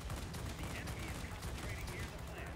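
Sustained, dense cannon and machine-gun fire from a BF 109 G fighter in the arcade flight game World of Warplanes, a loud continuous burst with rapid low thumping running throughout.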